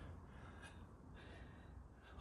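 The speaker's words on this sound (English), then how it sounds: "I'm panting a bit" A person catches their breath after wrestling parts back together with a jack and bolts, a few heavy gasping breaths, close and quiet over low background hum.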